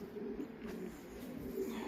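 Racing pigeons cooing in a loft, a low soft continuous murmur of coos, faint and steady under a light room hum.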